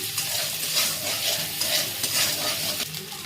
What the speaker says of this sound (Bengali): নুন চিনি দিয়ে একটু ভাজা ভাজা করে নিচ্ছি